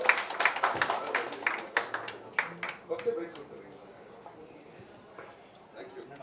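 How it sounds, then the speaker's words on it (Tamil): An audience at a music video promo launch claps for the lyricist, a burst of scattered, uneven handclaps mixed with voices that thins out after about three seconds, leaving quieter murmur and talk. "நம்மளோட லிரிசிஸ்டுக்கு வந்து ஒரு பலத்த கைத்தட்டல் கொடுத்துடலாம்."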